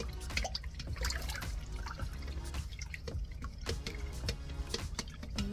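Filtered distilled water pours steadily into a kombucha brew, a continuous close splashing trickle with dribbling spatters throughout.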